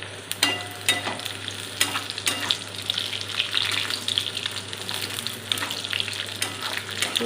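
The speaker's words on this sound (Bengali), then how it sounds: "আমি কিছু কিশমিশ দিয়ে একটু ভেজে নেব" Raisins fry in a very hot pan for Gobindobhog pulao, a continuous bright sizzle with scattered crackles and occasional sharper clicks as they are stirred, close and alone without talk.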